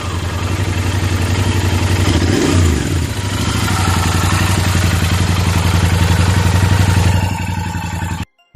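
A Royal Enfield Interceptor 650 twin-cylinder engine fires up on the self-starter and settles into a steady, loud, close idle with a rhythmic low thump, running continuously until it cuts off near the end.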